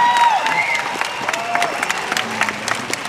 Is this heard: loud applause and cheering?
yes